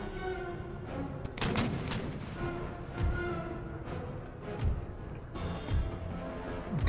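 Musket volleys from line infantry in the Empire Total War strategy game crack out irregularly, several scattered shots and rolling bursts over a continuous low battlefield rumble, fairly faint and distant.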